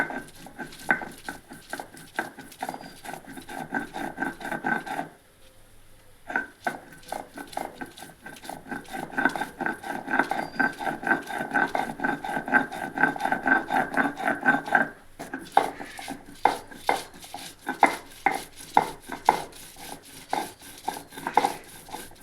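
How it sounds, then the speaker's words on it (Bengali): Prawns and khargon leaves being ground on a shil nora stone slab, giving steady rhythmic scraping and rubbing strokes that pause briefly twice before the grinding resumes. "আমরা শিল নোড়া এটাকে বাটবো"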